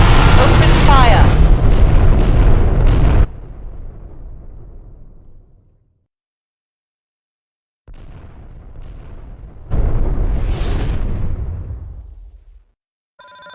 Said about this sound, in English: Targeting the chitin with primary photon beam cannons. Gunnery control. Open fire.